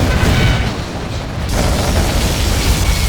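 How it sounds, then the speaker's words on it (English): Particle cannon blast in the strategy game Command & Conquer Generals Zero Hour, a loud sustained roaring burst with deep rumble that dips briefly then swells again and holds for the full three seconds, with no talk. "General, our enemy is using their particle cannon."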